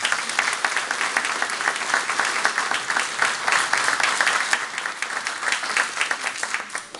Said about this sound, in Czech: ja poprosím ešte jeden potlesk pre ňa.